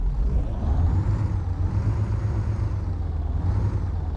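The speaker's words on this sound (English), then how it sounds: "That's the sound of the engine there." A heavy MAZ 5048 truck engine in American Truck Simulator idles with a steady low rumble and faint whine, constant and close with no talking.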